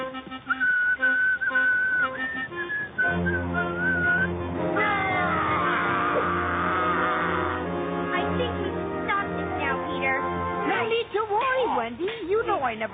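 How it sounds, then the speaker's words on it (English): A boy whistles a lilting, wandering tune in clear sustained notes, with bursts of speech, other voices and background music layered around the whistling throughout. "Stop that infernal whistling, boy."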